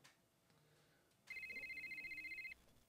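An incoming call rings on a radio show: a steady electronic phone tone pulses rapidly for about a second, loud and up front over a quiet background.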